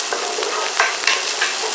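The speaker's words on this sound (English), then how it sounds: "Once the pan is hot, go ahead and get some of my onions in." Half a large red onion dropped into a hot pan, a brief bright crackling sizzle with sharp pops, close and loud, no one talking.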